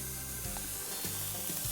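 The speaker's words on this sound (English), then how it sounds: "Let's hear them sizzle." Food sizzles and crackles steadily in a hot pan, a soft continuous hiss dotted with small pops, heard close and alone.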